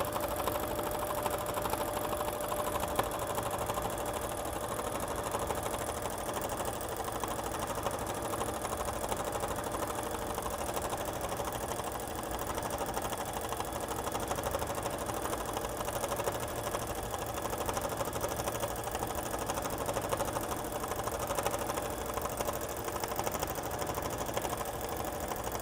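A sewing machine stitches a quilt on a tabletop fabric frame, running as a steady, continuous whir at an even level throughout, close and alone with no talk.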